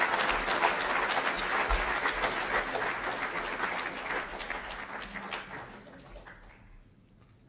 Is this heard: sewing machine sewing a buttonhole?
no